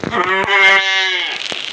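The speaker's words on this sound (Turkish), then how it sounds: "Keçinin sesi geliyor." A goat bleats in one long, wavering cry close by, with a few soft knocks and rustles around it.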